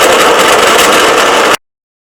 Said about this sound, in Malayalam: അപ്പോൾ നമ്മുടെ മിക്സിയിലിട്ടിട്ട് ഒന്ന് കറക്കി എടുത്തിട്ടുണ്ട്